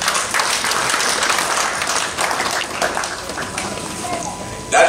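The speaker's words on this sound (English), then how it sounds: "Let's clap for them." An audience at a Rotary club handover ceremony claps in a dense patter that gradually thins toward the end, with a few voices calling out over it.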